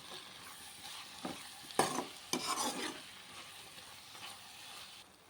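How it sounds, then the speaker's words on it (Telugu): Ivy gourd curry with chili, coriander and cumin powders fries quietly in a pan while a spoon scrapes and stirs in several short strokes over a soft, steady sizzle, with no talking. "ఈ కారం, ఈ ధనియాలు, జీలకర్ర పౌడర్ ఇది కూడా బాగా ముక్కలకి పట్టేంత వరకు ఫ్రై చేసుకుందాం"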